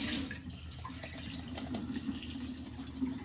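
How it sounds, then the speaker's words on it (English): Rice being rinsed in water under a running kitchen tap, a steady close hiss of flowing water with soft swishing and sloshing as the grains are moved around, and no voices. "what we're going to do is kind of wash or polish our rice multiple times until the water runs clear"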